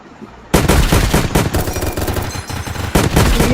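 Zombies gunned down in the Zombie Rush video game: after a quiet moment, loud, close automatic fire erupts in dense rapid bursts, briefly easing before another sustained volley.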